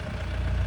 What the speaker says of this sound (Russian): Вот так работает забивная машина